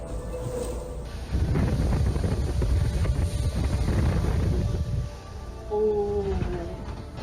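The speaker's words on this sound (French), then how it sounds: "The wind is super gusty and we're very close to each other." Strong gusty wind roars across the deck of an IMOCA racing sailboat at sea, with loud buffeting surges and rushing water, and a brief whistling tone near the end.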